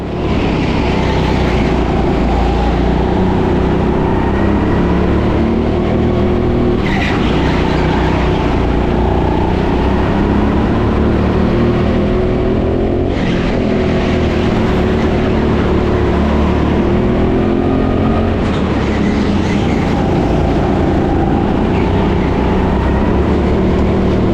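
Go-kart engines at TeamSport Sheffield during a BIKC local middleweight final race, a loud, continuous buzzing drone that holds steady throughout with slight surges, no talking.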